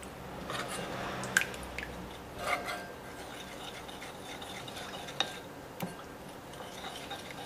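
Honey, chilli flakes and ginger are mixed in a bowl with a spoon, giving soft stirring swishes punctuated by a few light clinks of utensil on the dish, close and fairly quiet with no talking.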